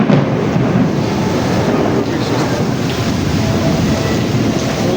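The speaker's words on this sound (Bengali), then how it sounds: "এই যে সঙ্গে হাওয়া," Strong wind roars and buffets steadily through a heavy rainstorm, a loud continuous rush that fills the brief stretch, with no voices over it.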